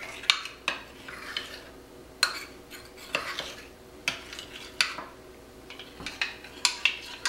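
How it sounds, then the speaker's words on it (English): A spoon scrapes and taps against a pot while cornstarch is stirred into red pasta sauce, giving irregular clinks and scraping strokes over a low background hum, close and fairly quiet. "I'm going to get it all mixed in."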